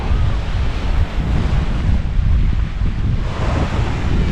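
Surf washes continuously onto a local beach in Fiji, a loud, steady roar of waves mixed with heavy wind buffeting the microphone.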